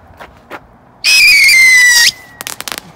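A firework is set off inside a porta potty: a loud shrill whistle lasting about a second, then a quick burst of crackling pops.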